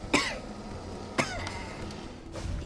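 Two sharp coughs about a second apart, fairly close, followed by quieter room noise and a faint shuffle.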